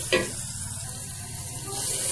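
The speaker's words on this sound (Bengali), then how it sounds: "পেঁয়াজ কুচিটা একটু ভেজে নিয়ে" Chopped onion frying in a pan for bottle gourd with small prawns, a steady soft sizzle with one brief clack near the start, close and continuous.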